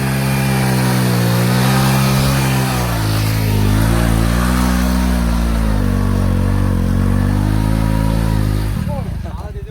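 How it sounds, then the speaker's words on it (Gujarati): A vehicle stuck in the jungle revs its engine hard and steadily, a loud close droning roar that rises and falls for several seconds before cutting off near the end, with voices underneath. "જો ભાઈ આવી રીતે કઈક ગાડીઓ હલવાઈ જાય અહીંયા જંગલમાં"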